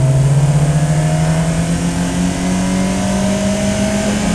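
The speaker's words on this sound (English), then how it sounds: "It makes an angry little noise, even though this is the stock exhaust." Stock-exhaust Toyota AE86 four-cylinder engine revving hard, a steady rising engine drone held loud and close throughout, with no talk over it.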